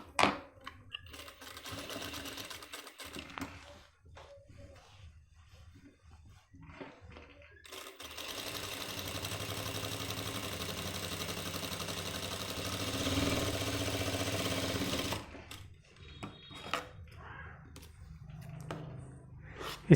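Sewing machine stitching a pant front pocket, running in bursts with a long steady stretch of continuous mechanical whirring in the middle, quieter handling gaps before and after.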